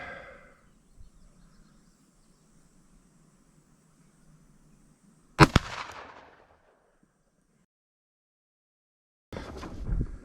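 A Ruger GP100 revolver fires at a center target outdoors on a hot day: two sharp, loud reports several seconds apart, the first ringing off with a short decay, separated by near silence.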